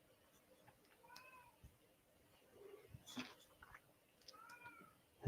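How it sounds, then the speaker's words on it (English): A pet cat named Skittles meows twice, demanding food, each call short and drawn upward, with quiet background noise and a soft clatter between them. "If you guys hear a cat screaming, that is my cat Skittles"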